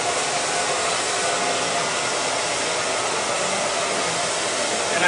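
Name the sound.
hair dryer blowing hair dry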